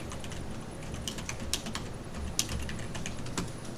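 Computer keyboard typing of CAD commands, a close series of quick plastic key clicks arriving in short irregular bursts with brief pauses, fairly quiet.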